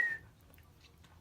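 A person whistles a quick imitation of a wolf whistle, a single bright rising-falling tone lasting a split second at the start, followed by quiet room noise.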